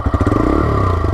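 A TVS Raider 125cc motorcycle engine gives a close, steady exhaust note with a dense low throb and fast pulsing firing rhythm throughout, with no talking.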